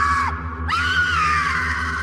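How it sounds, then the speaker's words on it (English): A long, loud, piercing scream rises and wavers inside a circus big top. It holds steady for about two seconds with a brief break early on, and no talking is heard. "there is a blood-curdling scream from somewhere inside the big top"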